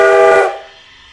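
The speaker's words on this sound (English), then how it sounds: "stopped using the clip detector for the roof to get the whistle." A steam train whistle sounds in a Roblox railroad game, one loud sustained harmonic blast lasting about half a second and then cutting off into a faint fading tail.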